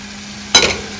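Onion with ginger, garlic and green chilli paste hits a hot pan for a sudden short sizzle and stir after a quiet moment, close and brief, with no voices.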